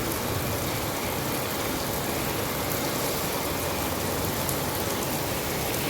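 Heavy rain pours at night in Riyadh, a dense, steady hiss with no letup and no voices.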